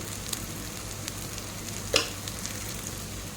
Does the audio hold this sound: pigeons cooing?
no